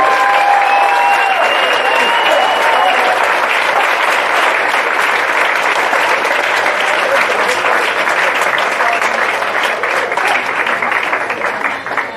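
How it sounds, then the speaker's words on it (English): Sustained applause from a large crowd at a high school baseball banquet, steady and dense clapping throughout, with a few faint whistles near the start. "one more round of applause for our class"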